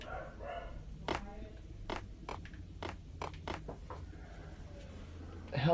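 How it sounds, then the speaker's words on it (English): A dog in the video game Max Payne barks in a rapid, irregular run of sharp yaps, fairly quiet against a low background hum. "The hell's my dog barking at?"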